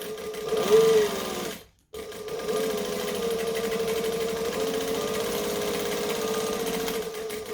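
Close, loud sewing machine stitching a metro bag, running a burst forward, stopping for a brief silence, then whirring steadily again as it back stitches at a joining stitch length.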